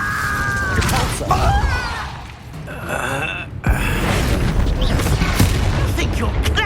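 A Repulsor spell blast in the Hogwarts Legacy video game lands as a sharp, heavy boom midway, set among dense magical combat effects, creaks and clattering mechanisms, with vocal gasps and grunts mixed in.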